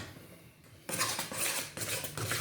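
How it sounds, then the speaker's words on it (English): Bread dough being stirred in a bowl with flour just added, giving a rapid scraping and clinking of utensil against bowl that starts after a short quiet moment and carries on in uneven strokes, close and alone. "Start stirring it up"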